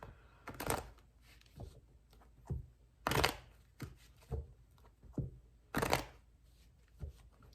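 Tarot cards are shuffled in a series of quick riffling bursts, crisp and close, separated by short pauses.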